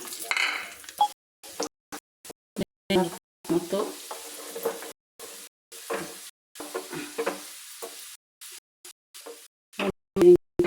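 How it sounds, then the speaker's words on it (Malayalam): Raisins fry in ghee in a pan, bursts of close sizzling and stirring cut by repeated abrupt silences, with brief clinks of a spoon toward the end. "മുന്തിരിങ്ങ വറുത്ത് കോരിയെടുക്കാം."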